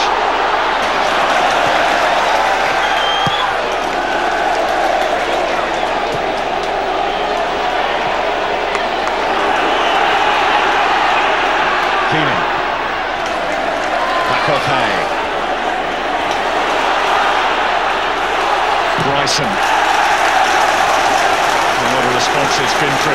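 Football crowd at a Kilmarnock v Ayr match applauding and cheering a player, steady broad clapping and crowd noise sustained throughout with commentary over the top.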